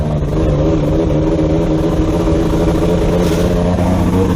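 A car with a JDM engine that is not burning fuel properly strains up a hill, giving a steady, loud, close droning note throughout with no talk.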